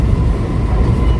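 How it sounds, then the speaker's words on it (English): An SMRT Alstom R151 metro train runs on the North-South line between Khatib and Ang Mo Kio, a loud, steady low rumble of wheels and motors heard from on board. "SMRT 7th generations R151 train for the SMRT North-South line."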